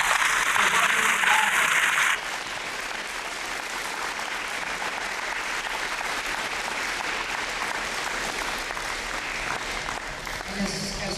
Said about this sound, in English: give these officers another round of applause